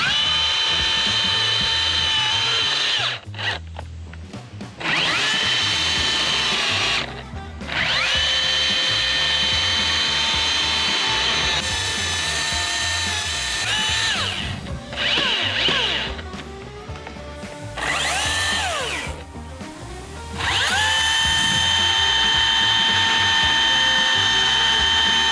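A saw cutting through a large tree limb during a tree removal beside power lines, a loud steady mechanical whine with brief pauses and shifts in pitch as the cut progresses, close by and without talk.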